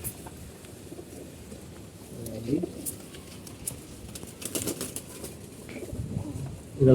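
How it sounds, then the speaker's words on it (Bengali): Large pigeons of a fancy breed coo softly on an open rooftop, low murmuring calls and a brief wing flutter set against steady outdoor ambience, with a voice talking nearby. "সাইজে কিন্তু বড় আছে কবুতরগুলো ঠিক সাইজে কবুতর"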